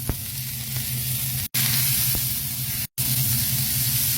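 Onion, garlic and celery frying in a little oil in a pan, a loud, close, steady hiss and sizzle broken by two brief silent gaps.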